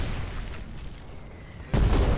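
Mortar tank shell launched in Foxhole: a low rumbling background suddenly broken near the end by one loud, deep booming shot that keeps ringing.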